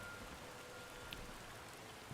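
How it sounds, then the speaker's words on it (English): Steady rain falling in the Age of the Ring strategy game, an even, constant hiss of drops with a faint patter, heard alone without talk. "And yes, it's still raining"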